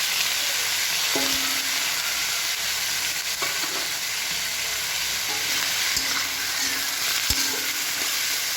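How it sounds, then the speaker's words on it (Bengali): Chopped potatoes and garlic fry in a pan with a constant loud sizzle, while a utensil occasionally knocks and scrapes against the metal. "আলুটাকে আমি একটু ভাজা ভাজা করে নেব।"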